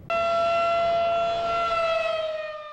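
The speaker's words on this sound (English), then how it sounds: "When you hear a tornado siren, what do you do?" A tornado siren in Indiana sounds with a loud, sustained wailing tone that holds steady and then slowly drops in pitch.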